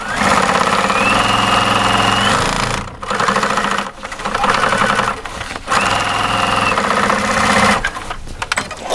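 A sewing machine runs a straight decorative stitch along the hem of a pair of jeans, loud rapid mechanical chatter in several bursts separated by short pauses, with no talking.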